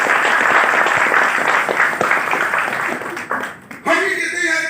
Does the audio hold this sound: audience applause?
yes